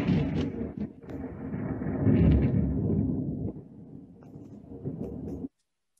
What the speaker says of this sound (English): Thunder and lightning is coming!